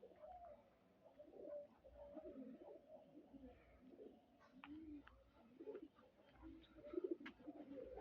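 Pigeons coo softly at a home in Bangladesh, giving repeated low, throaty calls at a faint, moderate distance over quiet background noise.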